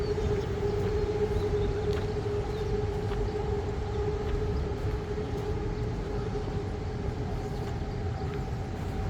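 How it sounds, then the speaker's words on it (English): A train rolling in behind a canal park in Bangkok, a steady continuous rumble with sustained tonal whine, fairly loud and unbroken throughout. "The train is coming in on the back."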